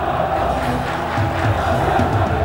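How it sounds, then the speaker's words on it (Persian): Stadium crowd cheering and applauding for footballer Nasser Hejazi, a dense, steady roar with rising swells, heard from within the stands. "و جالب اینجاست که ناصر حجازی مورد تشویق قرار میگیره"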